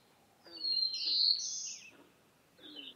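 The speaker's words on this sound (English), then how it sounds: "This is the 12th easiest, black-throated blue warbler." Black-throated blue warbler singing in Maine, a buzzy rising phrase of clear, fairly loud notes followed by a shorter repeat after a brief pause.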